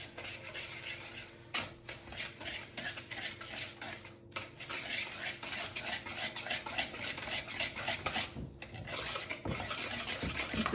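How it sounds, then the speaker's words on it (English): Brown sugar and granulated sugar are whisked together in a bowl for carrot cake bars: a fast, continuous scratchy rhythm of whisk strokes against the bowl, close and unbroken, with no talking. "So I wanna whisk these together."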